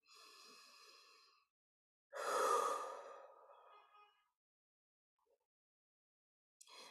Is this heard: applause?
no